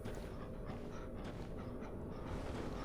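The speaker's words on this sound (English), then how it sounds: "Ah, there's the dog." A dog in the video game Dark Souls Remastered pants in rapid, breathy bursts over a constant wash of game ambience, fairly loud and continuous throughout.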